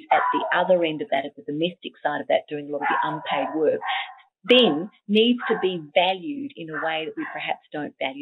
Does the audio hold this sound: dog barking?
yes